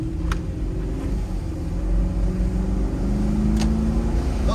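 Engine of a 2005 Range Rover L322 with a BMW V8 growling while driving, a low steady rumble with road noise inside the cabin.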